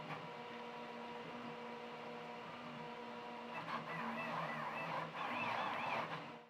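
The active filtration fan on a Prusa Core One+ 3D printer runs as a steady mechanical hum, joined partway through by warbling, whining stepper-motor tones as the printer works at close range.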